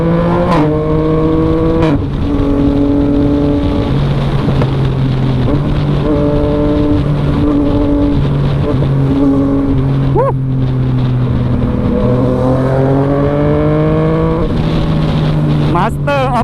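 Yamaha MT-09 motorcycle accelerating hard with traction control off, quickshifter up-only gearbox snapping through repeated upshifts, each marked by a brief cut and pitch drop, loud and up close in a steady engine roar.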